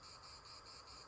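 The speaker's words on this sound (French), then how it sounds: "On entend la cigale là-bas." A cicada sings far off in a grassy meadow by a small country path, a faint continuous buzzing drone with a gentle pulsing rhythm, heard alone.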